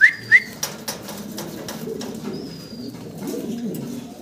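Pigeons on a farm coo in a few short, soft calls near the start, then a steady low murmur of cooing birds continues under faint background noise.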